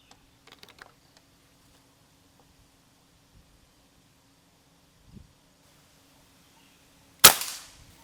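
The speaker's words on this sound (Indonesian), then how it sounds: "Lanjut tembakan keenam." A single sharp shot from a Predator 500cc PCP air rifle near the end, loud and close with a short decay, preceded by a few faint clicks and handling sounds in otherwise quiet surroundings.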